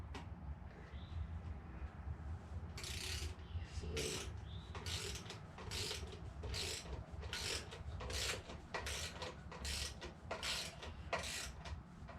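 A preset torque wrench tightens valve cover bolts on a 7.0 L (427 cu in) LSX engine, giving a quick run of rhythmic ratcheting clicks, about a dozen evenly spaced pulls, close and fairly quiet.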